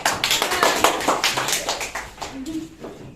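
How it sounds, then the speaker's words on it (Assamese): Children's quiz competition audience claps for the winning group: a burst of lively hand claps, quick and uneven, close and fairly loud, thinning out near the end while voices chatter underneath. "চবে তালি বাজাও"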